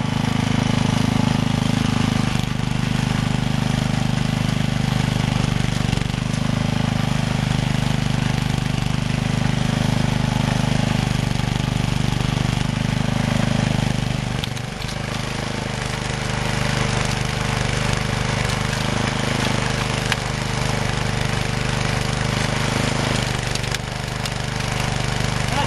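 A small rototiller engine drones steadily while tilling a garden bean patch, a loud, continuous mid-pitched rumble with slight dips in load, close by, with no talk.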